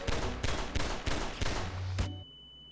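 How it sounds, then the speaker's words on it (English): Rapid series of loud explosive blasts as props such as explosive barrels detonate in Garry's Mod, about six sharp bangs in quick rhythm before an abrupt cut to near silence with a faint tone. "the explosive barrel, well, explodes"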